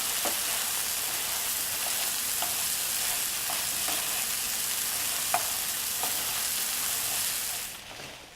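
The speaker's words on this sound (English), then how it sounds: "We'll saute this for about 8 minutes or until the vegetables are nice and tender." Vegetables sauté in a pan with oregano and salt, giving a steady, close, even sizzle with faint clicks of stirring throughout, tailing off slightly at the very end.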